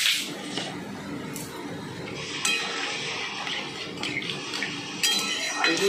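A spoon stirs and scrapes plum chutney in a metal pan, with clinks and clatters in an uneven rhythm at close range and a few soft voice sounds mixed in.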